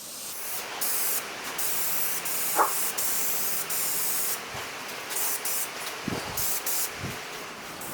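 Spray gun laying a light mist coat of paint on a Nova car dash, a steady close hiss running throughout with brief pauses and small knocks near the end.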